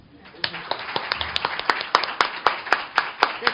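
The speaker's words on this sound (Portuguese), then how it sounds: "pedir que essa sessão se encerrasse com mais aplausos para a Eneida e para a Marilu" An audience at a literary book-anniversary session claps: a rising, lively burst of applause with distinct sharp hand claps standing out near the microphone.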